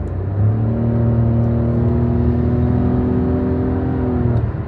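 A Toyota Aygo X 1.0 CVT hatchback's engine hums steadily while accelerating on a motorway, a rising whirring drone over road rumble heard from inside the cabin.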